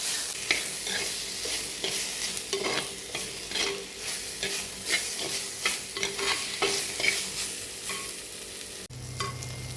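Tomato and ginger sauté with garlic in a pan for fish curry, a continuous sizzle with repeated scraping stirs of a spoon throughout, close and fairly quiet.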